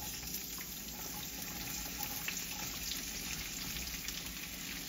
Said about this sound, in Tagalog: Lutuin lang natin saglit tong mga gulay.